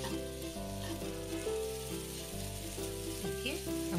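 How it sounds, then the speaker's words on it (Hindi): Moong dal roasting on medium heat for halwa while being stirred constantly, a low steady sizzle beneath a repeating musical backing. "इसको मीडियम आंच पर हमको बराबर चलाते रहना है"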